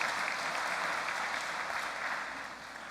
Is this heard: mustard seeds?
no